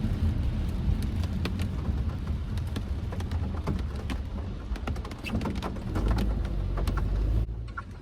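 Heavy rain on a rainy day in Vancouver, a continuous close patter and hiss with scattered sharp drops striking a nearby surface, over a low rumble that could be traffic.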